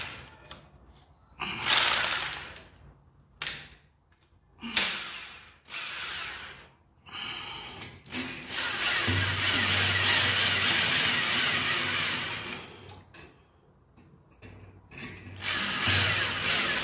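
A power drill driving new screws to tighten a loose household radiator bracket, with repeated whirring bursts of varying length separated by short pauses, then a longer sustained run, close and fairly loud.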